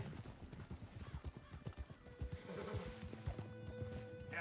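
Horse hooves and neighing in Red Dead Redemption 2, a steady clip-clop of hooves at close range followed by a loud whinny, with faint voices underneath.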